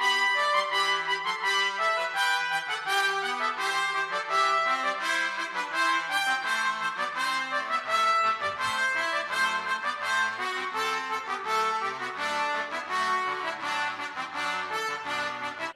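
A steady instrumental sequence of repeated stepping phrases that moves gradually downward and settles toward a resolving cadence, played moderately soft without any voices.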